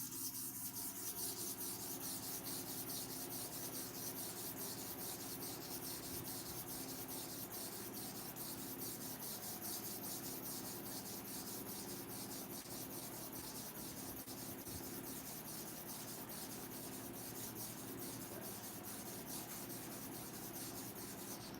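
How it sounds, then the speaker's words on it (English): A trimmer clipper blade is sharpened with light pressure and slow to-and-fro strokes, giving a faint, steady rasping rub that repeats evenly throughout with no voices. "So I'm sharpening this environment, this side now, to and fro 50 times."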